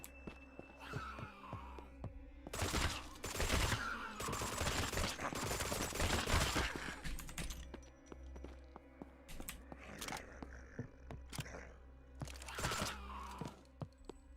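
Video game gunfire, rapid bursts of automatic shots and single cracks in dense clusters, loud and close with sustained volleys in the middle and scattered shots after, no talking.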